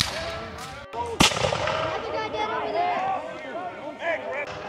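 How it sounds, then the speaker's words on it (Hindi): Cannon fire at a War of 1812 battle reenactment, one sharp boom near the start cutting through continuous crowd chatter and voices, with a little more distant rumble in the background. "पीछे बैकग्राउंड में जो है वो कैनन फायर हो रही है"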